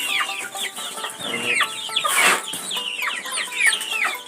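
Tiger chickens on a farm cluck and squawk repeatedly in a busy, close chorus, with overlapping calls and some rustling, without any talking.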